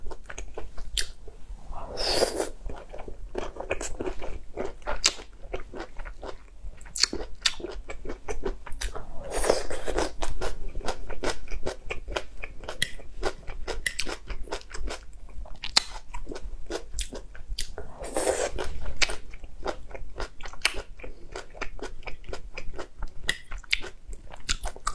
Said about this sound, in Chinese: 我超级喜欢吃虾